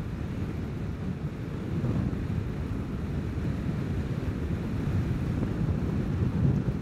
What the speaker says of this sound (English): Pretty good wind I'm riding into right here.